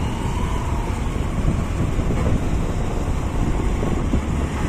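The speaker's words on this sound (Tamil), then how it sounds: "ஆனால் காற்று நல்லா அதிகமாக அடிக்குது." Strong wind blows outdoors on a dry day with no rain, a steady broadband roar buffeting the microphone throughout with no other clear sounds.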